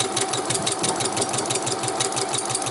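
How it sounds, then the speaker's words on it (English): A sewing machine stitching free-motion embroidery swirls in a machine embroidery frame, with a steady, close, rapid mechanical hum and rhythmic needle chatter running throughout. "I'm just sewing swirls,"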